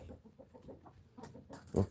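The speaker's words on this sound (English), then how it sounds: "Where's the little chicken?" A chicken clucks in a rapid run of soft, low, close clucks, ending in a louder sharper squawk, over a quiet outdoor background.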